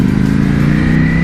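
Ducati Panigale V4 sports motorcycle engine running steadily while being ridden, a loud continuous drone with a low, even pitch that rises slightly, heard close with no voices.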